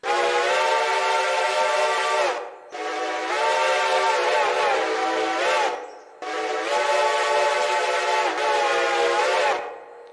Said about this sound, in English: We have a Reading 6 chime.